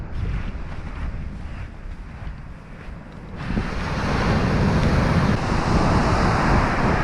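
Ocean surf rolls onto the beach at Point Reyes National Seashore as a loud, continuous roar, with wind buffeting the microphone, growing fuller and stronger about halfway through.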